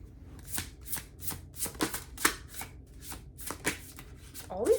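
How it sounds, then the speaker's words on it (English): Tarot cards being shuffled by hand, a run of quick riffling bursts in an uneven rhythm, close and fairly crisp, with no talk over them. "these cards are flipping over."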